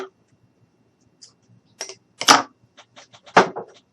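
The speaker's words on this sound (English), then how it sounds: "let me grab my scissors." Scissors picked up and handled at a craft table, a few sharp metallic clicks and clatters close by, spaced irregularly with quiet gaps between.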